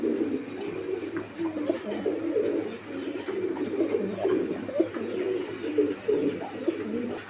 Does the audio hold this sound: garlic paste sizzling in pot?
no